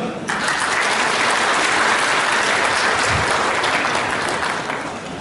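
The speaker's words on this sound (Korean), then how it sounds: "박수로 환영합니다" Audience applause fills a large city hall conference room at a 100-person citizens' roundtable meeting, steady and dense for about five seconds as a policy official is welcomed to the stage.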